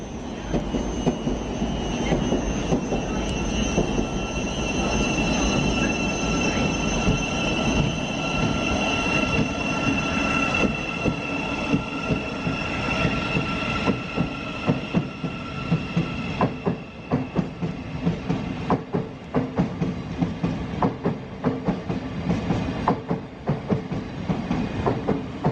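Trains rumble and roll through a very busy station near central London at London Bridge, a loud continuous rush of wheels on rails with metallic squealing, rising and fading as carriages pass close by, with no talking.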